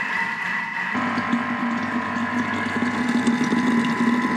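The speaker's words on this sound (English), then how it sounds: "7 minutes to whisk it up with the butterfly whisk." A butterfly whisk beats lamington batter, giving a steady, continuous motorised whir with a constant hum that starts abruptly and runs on evenly and fairly loud, with no talking.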